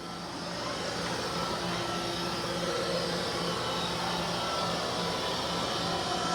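A Narwal Freo Z10 Ultra robot vacuum runs on high suction, a loud, steady whirring roar that swells in at the start and then holds evenly, close by with no voices.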